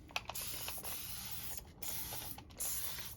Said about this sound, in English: I spray it down